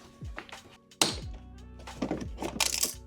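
A plastic trim clip pops out of a hatch panel on an R53 Mini Cooper, one sharp loud snap at about the one-second mark amid softer handling knocks and rustles of the trim, close up.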